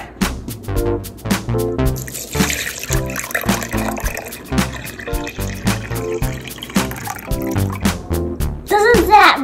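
Water is poured into a mixing bowl holding an egg for Moroccan baghrir pancake batter, a close bubbling, gurgling pour that rises in pitch as the bowl fills.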